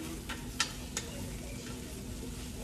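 Breakfast sizzles in a non-stick pan, a steady soft frying hiss broken by a few sharp clicks and taps of a utensil against the pan.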